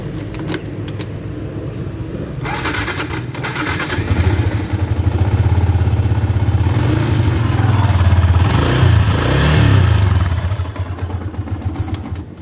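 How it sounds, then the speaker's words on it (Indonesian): A Yamaha Jupiter MX King 150 motorcycle, a 150 cc machine, idles and revs nearby, its engine and exhaust building to a deep, muffled, bassy drone that swells and eases without any voices. "Yang gua suka itu bagian suara dari knalpot dan mesinnya."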